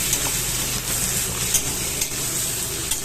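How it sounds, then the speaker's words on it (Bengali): Onions frying in a pan before chicken is cooked, a loud continuous close-up sizzle with occasional clicks from stirring, no voices. "এবার পেঁয়াজ ভাজছি"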